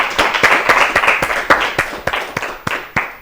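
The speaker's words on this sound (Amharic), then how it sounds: "እሺ አጨብጭቡላት።" Applause from a studio audience at a children's TV quiz show, a burst of loud, close hand claps with uneven rhythm that thins out over a few seconds.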